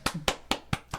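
Hands clap five times in a steady, moderately paced rhythm, sharp and fairly close, with no talking over them.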